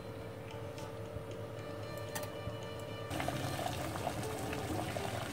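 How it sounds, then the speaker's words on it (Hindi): Water boiling in a pot for cooking rice, four cups in a deep vessel, bubbling steadily close by, with the rolling bubble noise growing a little louder and denser partway through. "पानी में वो उबाल आ चुका है।"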